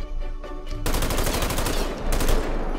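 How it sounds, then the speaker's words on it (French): Rapid gunfire in GTA 5, a French army fight in the city, starting with a few separate shots over a low hum and then turning into a loud, continuous automatic volley of close cracks for most of the span. "Oh, je tire dans le rocher."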